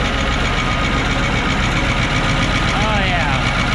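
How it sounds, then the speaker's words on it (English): An old Caterpillar 3208 diesel idles loudly and steadily after a cold start on a farm, its exhaust manifolds cracked, a constant rumbling drone with faint whistling tones near the end. "Never had issues with this poor old 3208 Cat starting."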